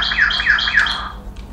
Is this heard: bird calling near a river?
yes